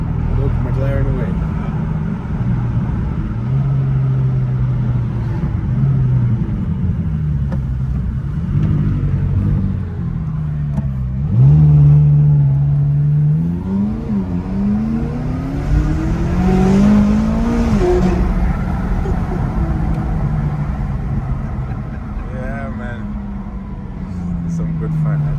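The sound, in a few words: McLaren 570S Coupe engine revving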